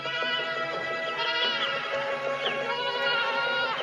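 Several goats bleat over one another in an overlapping chorus of wavering cries, with no other sounds nearby.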